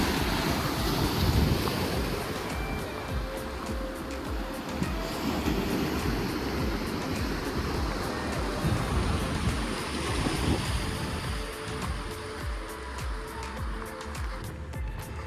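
Ocean surf breaking and churning against the shore at Portuguese Bend in Palos Verdes, crushing bentonite clay, with a steady loud wash of waves and wind rumbling over the microphone throughout.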